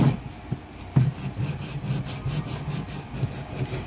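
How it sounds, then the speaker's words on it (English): Painted wood is sanded by hand with sandpaper on a sanding block, a rhythmic rasping back-and-forth scrubbing of moderate loudness with a few sharp knocks as the block meets the surface. "you want to just go over and just sand it down so it's not so dark"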